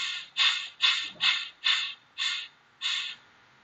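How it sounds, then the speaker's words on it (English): A declutchable actuator on a butterfly valve with a positioner gives seven rhythmic, evenly spaced squeaky creaks, each lasting about a third of a second, close and fairly clear against a quiet background. "see the butterfly valve opening here."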